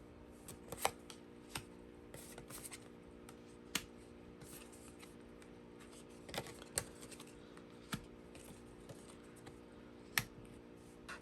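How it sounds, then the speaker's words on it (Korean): Tarot cards are shuffled and drawn in quick, crisp bursts of papery flicking and soft taps, close up and fairly quiet, with short pauses between handfuls and no talking. "카드를 좀 더 뽑아보도록 할게요"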